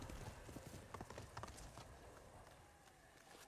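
Video-game horse hooves clatter in a quick clip-clop rhythm, quiet and steady, gradually fading over a few seconds.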